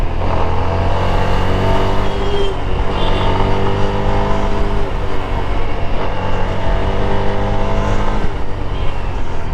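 A CF Moto NK 250, a 250cc motorcycle, drones loudly and steadily while being ridden in third gear, with harmonic engine tones shifting slightly as it pulls, no talking heard.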